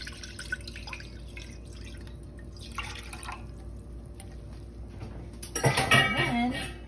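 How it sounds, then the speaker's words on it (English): Water, 3.5 cups, splashes loudly into a cooking pot on high heat for Puerto Rican white rice, after a few quiet clinks and drips. "And now I'm gonna add my water."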